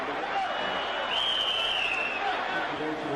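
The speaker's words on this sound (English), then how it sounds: "Ladies and gentlemen, give yourselves a round of applause." Steady, dense clapping from a boxing crowd, sustained at an even level throughout with a faint tone drifting above it.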